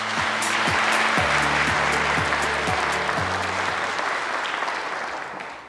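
Applause rises from the audience at a Korean national policy agenda report meeting as a presenter is introduced, a full sustained clapping that slowly tapers off toward the end while a low tonal music cue runs beneath.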